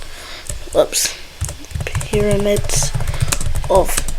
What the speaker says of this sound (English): then you can type in the pyramids of